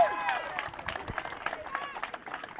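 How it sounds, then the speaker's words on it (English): Applause and cheering from a crowd at a kart racing event rise under excited voices, with scattered claps and shouts mixed through the noise. "Another round of applause for Zane Maloney!"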